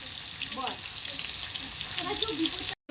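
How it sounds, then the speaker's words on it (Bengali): Pomfret fish frying in oil in a wok, a steady broadband sizzle running throughout with a few faint clinks, briefly cutting out near the end. "মাছগুলো আমি ভালো করে এবার ভেজে নেব। দেখুন মাছটার থেকে কত তেল বেরিয়েছে কড়ায়।"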